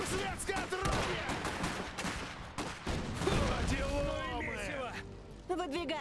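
Bursts of gunfire and armour-piercing cannon fire in the video game Iron Harvest crackle in rapid volleys beneath loud, shouting Russian character voices.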